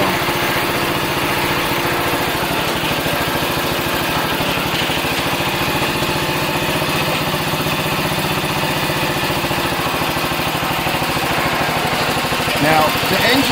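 An 8hp Briggs engine on a Jacobsen-Homelite rear engine riding mower runs steadily up close, a constant loud buzzing drone with people talking over it.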